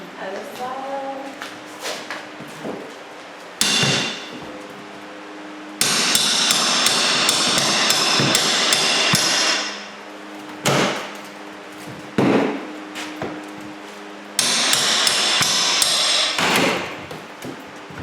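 A hammer knocks pieces into place during a house flip renovation, loud repeated sharp blows in bursts close by, with people talking in between.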